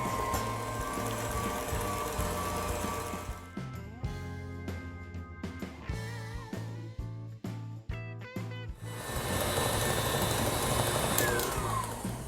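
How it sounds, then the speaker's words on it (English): A stand mixer whips homemade marshmallow mixture at high speed, giving a loud, steady whirring drone that eases into uneven pulses midway before returning at full strength. "I'll be able to increase the speed of the mixer and make this really fluffy and let it go about 9 minutes"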